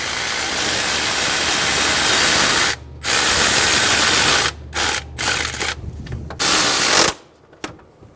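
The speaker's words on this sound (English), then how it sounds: "Snug down the starter bolts." Starter bolts on a 2003-2008 Honda Pilot are snugged down with a power tool. Loud, steady mechanical whirring runs in long stretches, broken by several short pauses, close to the listener and with no talking.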